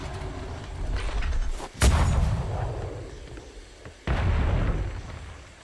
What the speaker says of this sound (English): Do you want a shot of fire on this cannonball?